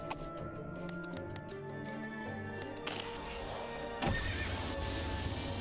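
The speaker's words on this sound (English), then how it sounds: "we got horses coming already" Horses neigh and whinny in the Trap Master tower-defence video game, layered over busy game music and sound effects, with a louder crash near the end.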